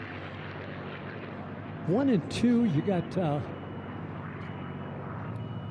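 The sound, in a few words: racing airplanes flying in an air race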